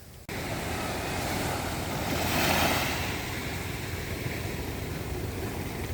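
Ocean waves wash steadily onto the shore, a broad continuous roar that swells briefly as one surges in, with some wind in the background.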